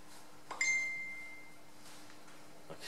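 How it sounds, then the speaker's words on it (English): A mobile phone in a workshop gives a single bright notification ping that rings briefly and fades over a steady low hum, while an axle puller plate for a Ferguson TE20 tractor is being drilled. "That's my phone binging away."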